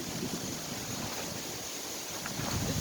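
Gusty wind roars in a continuous rush close to the microphone outdoors beside a portable car canopy being rolled up.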